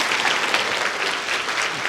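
Audience applause fills a presentation session on measuring wellbeing: a steady, fairly loud wash of many hands clapping together that holds evenly throughout, with no voices over it.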